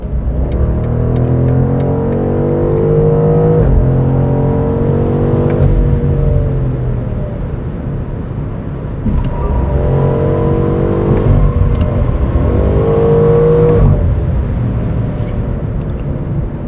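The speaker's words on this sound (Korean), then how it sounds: "자, M850i의 사운드만 꽤 오랫동안 녹음해 볼게요." A BMW M850i Gran Coupe's engine and exhaust drone loudly from inside while driving, rising and falling as the revs climb through gears with brief lulls between pulls, no talk.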